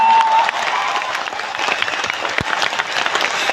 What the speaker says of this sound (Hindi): दशरथ मांझी के लिए जोरदार तालियां बजनी चाहिए।